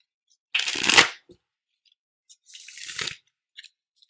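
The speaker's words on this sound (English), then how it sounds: "One more shuffle" Two short bursts of a deck of tarot cards being riffle-shuffled up close, the first louder and longer, with a brief pause between and soft card taps after, no talking.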